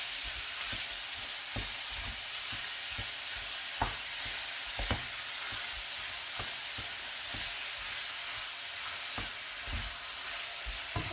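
Egg rolls (lumpia) fry in hot oil with a steady, dense sizzle, and faint intermittent stirring or scraping knocks sound through it.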